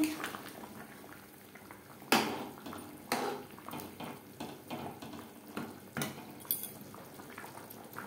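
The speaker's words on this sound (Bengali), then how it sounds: "গ্রেভি বেশ ভালো করে ফুটতে শুরু করে দিয়েছে।" Mutton and potato gravy bubbling in a pot, Bengali style, makes soft, irregular blips and pops at a low level, with a few sharper clatters of a utensil against the pot; no one speaks.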